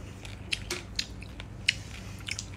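Freshly cooked, very crunchy fried food being bitten and chewed up close, with sharp crackling crunches at irregular intervals over a faint background hum.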